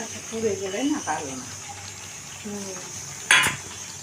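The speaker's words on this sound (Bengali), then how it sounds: "এইবার নাড়িয়ে চাড়িয়ে এটা একটু কষিয়ে নিচ্ছে" A spoon scrapes and clinks against a pan as spice masala is stirred and fried, with light frying underneath and a louder clatter near the end, while a person talks throughout.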